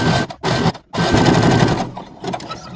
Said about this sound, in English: I can just continue to stitch over it